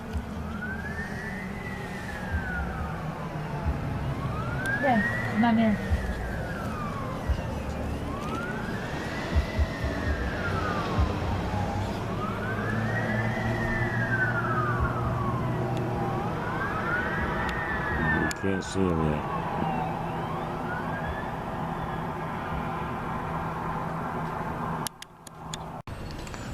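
A wailing emergency siren rises and falls in long, regular sweeps over road noise, with a few brief spoken words near the middle.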